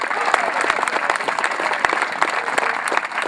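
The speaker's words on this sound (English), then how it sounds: "Give the Air Force a cheer." A large outdoor crowd at a Face of America event applauds and cheers for the Air Force, with dense continuous clapping and scattered whoops, loud and close throughout.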